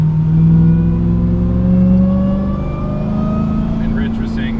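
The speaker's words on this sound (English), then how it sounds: "The supercharger's just always supercharging." Supercharged Demon Hemi V8 in a Jeep Gladiator pulling through the gears, a loud steady engine drone heard from inside the cab with rising whine, people talking over it.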